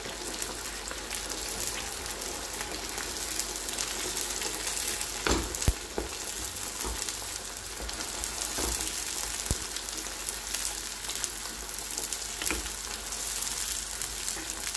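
A pot of bean and tomato stew with tomato paste bubbles and sizzles steadily at close range, with a dense crackling texture throughout and a few sharp clicks and taps from stirring.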